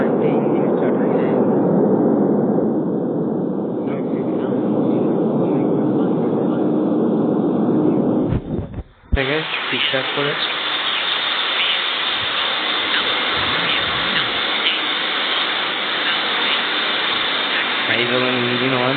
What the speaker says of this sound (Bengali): তো চলুন আমাদের এখানে আমরা ইঞ্জিন স্টার্ট করবো।